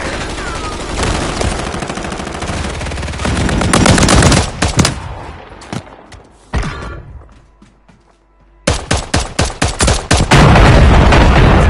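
Heavy automatic gunfire from the Warzone video game, loud rattling machine-gun bursts with thuds and mechanical clanks, a short lull, then a rapid series of sharp rhythmic shots and another sustained barrage.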